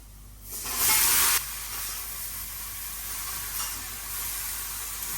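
Vegetables and shrimp hit hot oil in a pan with fried onion, a sharp burst of sizzling that settles into a softer, steady frying hiss.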